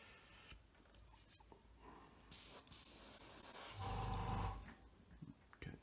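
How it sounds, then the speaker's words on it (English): An airbrush sprays paint at about 17 psi onto an Airfix Hawker Hurricane Mk.1 Tropical model, producing a soft, steady hiss that swells louder for a few seconds midway before easing off. "into our airbrush, and we're good with about 17 psi again"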